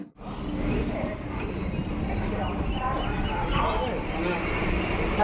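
A nearly empty local train rolls toward Belu station near Kolkata, with a steady rumbling clatter and a sustained high wheel squeal above it. A person talks over the noise.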